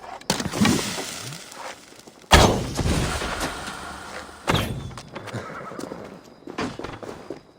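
Horses whinny and neigh amid sharp thuds and crashing bursts in a Viking siege of Paris in Assassin's Creed Valhalla, with hoof clatter and battle impacts in several loud surges.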